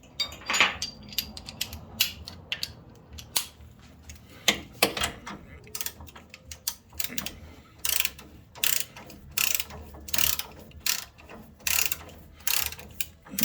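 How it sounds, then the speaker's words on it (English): Spring compressor being tightened on the front suspension of a 1974 Pontiac Trans Am, heard as close, fairly quiet bursts of rapid ratchet clicking, repeated in short runs with brief pauses between. "start tightening it up and compressing the spring"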